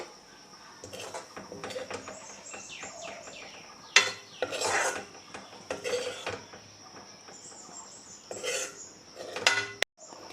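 Food is scraped out of a pan onto a plate with a series of metal clinks and scrapes, some sharp and close, set against a steady high hiss and quiet stretches between.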